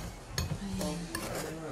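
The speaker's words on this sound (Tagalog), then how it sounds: "Haluin natin siya" Spring onion kimchi sauce is mixed in a bowl, with a few quick clinks and scrapes of a utensil against the side, close by and brief.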